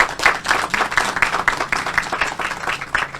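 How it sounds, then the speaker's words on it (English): An audience at a community hub ribbon cutting applauds with brisk, rhythmic clapping at close range, steady and fairly loud throughout. "give her a round of applause even now"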